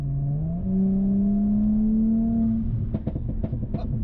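An Audi S5 engine hums with a rising drone, then settles into a rumbling, crackling idle, close and loud with no talking.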